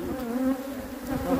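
Honey bees buzz steadily at an apiary hive during a honey harvest inspection, a continuous close-up hum without any speech.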